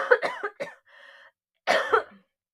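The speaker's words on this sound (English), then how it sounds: "I have to clear my throat and cough" A single person clears the throat with a few short harsh bursts and a brief hum, pauses, then gives one louder cough. The sounds are close and dry against silence.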